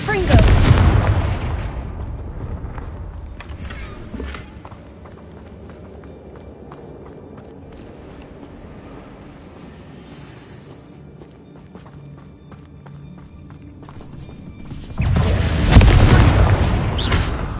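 Confringo blasting spell explosions in the Hogwarts Legacy video game, booming bursts that open loud, drop to a quieter rumble of movement and footsteps, then swell into another heavy blast near the end.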